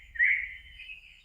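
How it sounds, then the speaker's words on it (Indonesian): A single bird call rings out for about a second outdoors in a cool, leafy spot, a clear bright chirp rising then trailing off, alone over a faint low rumble. "banyak suara burung juga."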